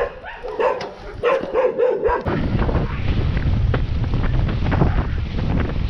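A dog barks a few times outdoors on a windy winter mountain, Marmanu, amid loud, buffeting wind noise, with a person calling out at the start.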